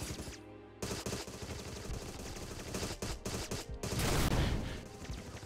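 SMG gunfire in the video game Agent 64: Spies Never Die, rapid automatic bursts with short pauses between them, followed by a louder burst near the end, with no speech.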